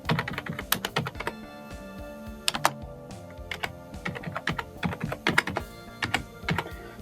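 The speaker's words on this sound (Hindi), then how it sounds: "फिर इसके बाद नेशनल आईडी कार्ड नंबर आपने अपना टाइप करना है।" Rapid, uneven keystrokes on a computer keyboard as a national ID card number is typed in, close and fairly loud, with short pauses between bursts of clicks and no speech.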